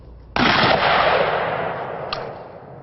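A Dragon's Breath shotgun round fires its payload of igniting magnesium pellets: one loud, sharp blast followed by a long roaring, crackling burn that slowly fades, with a faint second pop near the end.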